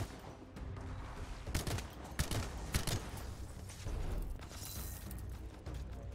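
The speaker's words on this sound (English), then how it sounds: "Right now I'm using a machine pistol." Machine pistol gunfire in the video game Anthem rattles in rapid bursts, loud and close, with short pauses between volleys and some booming impacts.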